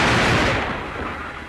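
Artillery batteries of assorted calibre firing in 1940 wartime newsreel footage, a single loud, close boom that rolls away and fades with no voices over it.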